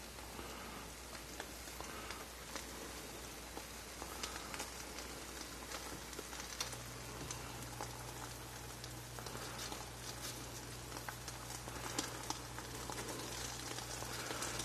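A ham and cheese omelette cooks in a pan with a steady, soft crackling sizzle that runs the whole time, fairly faint, with a low constant hum underneath and no talking.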